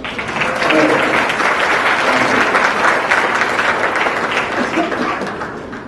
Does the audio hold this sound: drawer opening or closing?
no